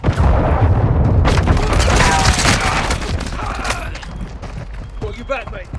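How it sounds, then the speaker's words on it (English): Heavy booms and rumbling explosions from a cruise missile strike in Call of Duty Modern Warfare 2, loud at the start and gradually fading under scattered gunfire and voices. "Friendly cruise missile approaching target."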